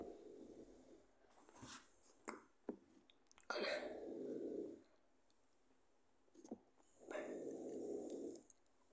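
A dog in the video game Trains Canyon makes a few rough, throaty vocal bursts, two long growly stretches among shorter snorts and clicks, fairly close with no talking.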